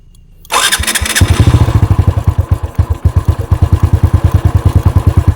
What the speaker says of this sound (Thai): ผมจะลองสตาร์ทดูนะครับ